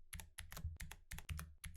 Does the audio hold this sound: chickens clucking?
no